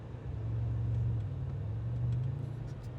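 A Porsche Panamera GTS with its exhaust valves open gives a steady low, deep rumble. It swells slightly twice over a few seconds and is heard close and alone, with no talking.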